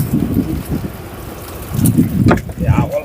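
A fishing boat runs at sea on a morning outing, its engine a low, pulsing rumble that swells and fades in uneven waves, close to the microphone and mixed with buffeting wind noise.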